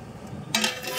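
A lid goes onto a cooking pot with a short metallic clank halfway through, followed by a faint lingering clatter and no speech.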